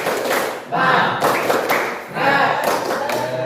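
A group of teachers claps together in a patterned rhythm, bursts of sharp claps separated by short pauses, loud and close, with voices chanting along.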